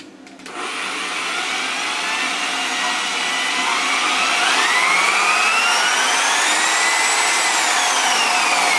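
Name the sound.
Snap-on variable speed car buffer running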